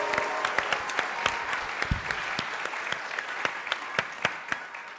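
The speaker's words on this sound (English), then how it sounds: "please, a big round of applause for the Theater of Public Policy" Applause from an audience welcoming an improv theater troupe onstage, a steady dense wash of clapping with distinct sharp individual claps standing out, fairly loud and without talk.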